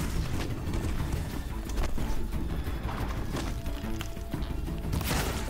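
Horse hooves clattering in the video game Horizon Zero Dawn, a dense, loud rumble of galloping mixed with thuds and game effects, with a sharp crash near the end.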